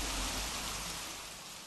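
Rain falls in calm air by the sea, a steady, soft hiss that fades slightly over a short stretch with no voices over it.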